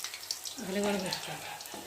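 Onion fritters (peyaji) drop into hot deep-frying oil and set off a brief burst of bubbling sizzle, alongside a short tonal voice-like sound and quieter background noise.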